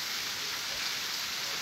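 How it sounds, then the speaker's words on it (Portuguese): Steady rain falls on a farm in Sítio Cabeça Preta, Limoeiro do Norte, in Brazil's sertão, making a dense, even hiss of close drops that never lets up through the short stretch. "a chuva é a alegria do sertão"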